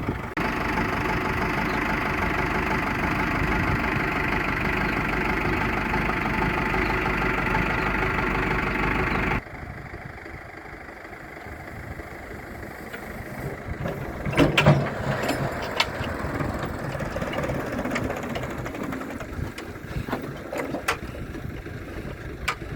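ZIL truck fitted with an SMD-21 turbocharged diesel engine: a loud, steady idling rumble for about nine seconds, then the sound drops to a quieter, rougher rumble with scattered clanks and knocks.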